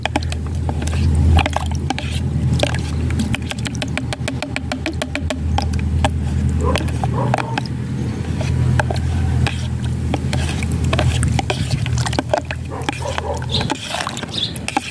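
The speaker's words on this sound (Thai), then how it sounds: "ละลายกับน้ำนะคะ เอาน้ำในนี่แหละค่ะคุณผู้ชมน้ำเปล่านะคะ เราละลายเลย ให้กะปิละลายนะคะ" Shrimp paste (kapi) being dissolved in plain water, heard as repeated wet squishing and mashing with rapid clicky scraping bursts, close and fairly loud throughout.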